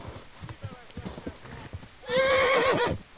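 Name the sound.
horse galloping and neighing, video game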